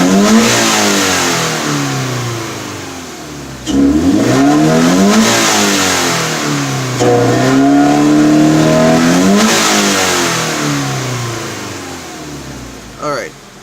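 A Scion FR-S fitted with an aftermarket eBay intake revs hard toward redline several times, its engine note climbing in loud rising sweeps, dropping back briefly, then surging again close to the mic.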